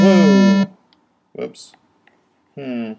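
A stuck synthesizer note rings from an iPad app as a sustained harmonic tone with stacked overtones, loud for about half a second, then returning briefly near the end, with short exclamations from a man between.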